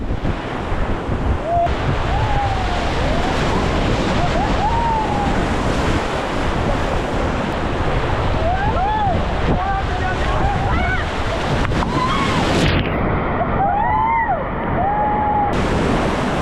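Rushing rapids on the Ganges at Rishikesh roar loud and close in a constant broadband wash of churning water, with wind buffeting and shouted voices breaking through at intervals.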